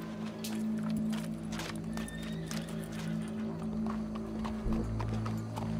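Horse hooves in Red Dead Redemption 2 gameplay, a quick series of sharp clip-clop strikes over a steady low hum, with a possible faint whinny.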